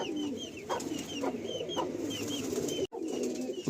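A Madrasi pigeon coos in soft repeated low calls close by, with a few higher bird chirps over a steady background and one brief cut-out near the end.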